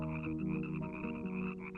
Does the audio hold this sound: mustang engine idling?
no